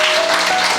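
A congregation at a Christian sermon bursts into loud, dense clapping, a brief close burst of applause with no voices over it.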